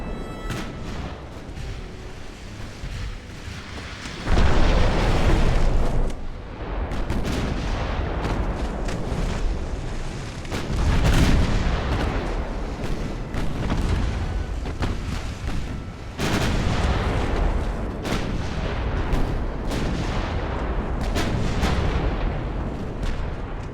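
Heavy naval gunfire rumbles through a warship battle in Ultimate Admiral: Dreadnoughts, with 1890-era hulls trading salvos as deep booms and blasts keep crashing one after another, loud and dense across the whole stretch.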